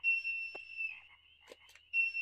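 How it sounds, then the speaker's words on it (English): A steady electronic whistle tone from the Harvest Moon 64 dog whistle sounds alone at low level, fading briefly mid-clip before returning, with a couple of faint clicks in between. "Your dog whistle is a different button than your horse whistle"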